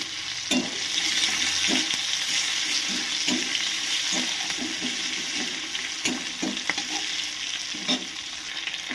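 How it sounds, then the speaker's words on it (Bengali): Chopped onion, five-spice seeds and slit green chilies fry in hot oil with a steady close sizzle, broken by regular scrapes and knocks of a spatula stirring the pan. "তেলের মধ্যে দিয়ে দিতে হবে 5 ফোড়ন, কেটে রাখা পেঁয়াজ, আর কয়েকটা চেরা কাঁচা লঙ্কা।"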